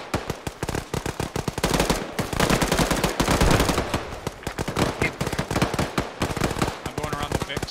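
Rapid unsuppressed automatic gunfire from the ARMA 3 video game rattles in dense, loud bursts almost continuously, with brief gaps between volleys.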